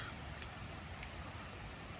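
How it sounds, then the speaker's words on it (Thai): Steady rain falls on a rural spot during traditional bamboo-tube fish trapping, a soft continuous broadband hiss of drops at even level with no voices. "ตอนนี้ฝนกำลังตกปัอกแป๊กปัอกแป๊กครับ"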